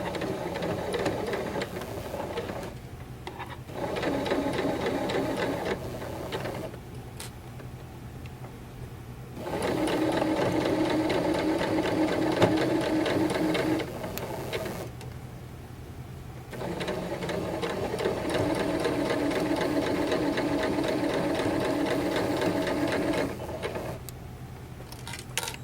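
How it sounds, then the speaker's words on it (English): A sewing machine stitches fabric in several bursts of rapid whirring, each several seconds long and separated by short pauses, close and steady with no talk. "You will also be sewing at the 5/8 mark when you complete your final row of stitching"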